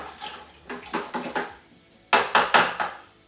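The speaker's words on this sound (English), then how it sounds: "I'm going to give that a quick stir, mix it all in" A spoon stirs yeast nutrient into a Youngs Harvest cider kit, giving a run of quick clinks and scrapes against the fermenting vessel, then three louder, sharper knocks near the end, close by with no talk.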